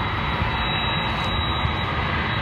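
A jet airliner passes low overhead above a river, its engine roar loud and continuous throughout, with no talking.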